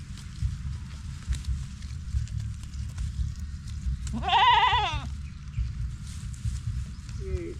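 A single goat bleats in a wavering call over steady low rumbling background noise, with a second brief bleat starting near the end.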